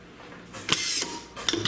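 Torque dial on a bottle capping machine turned by hand, a couple of soft mechanical clicks close up in a quiet room.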